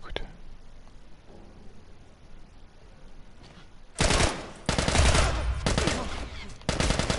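Gunfire in the video game The Last of Us: after a quiet, murmuring stretch, several loud bursts of rapid shooting erupt, separated by brief pauses, with a single sharp shot at the very start.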